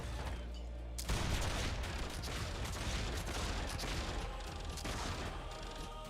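A dwarf character's machine gun fires in Warhammer Online: Return of Reckoning, bursting in suddenly after a moment of quiet and then chattering on in a dense, continuous rattle of shots.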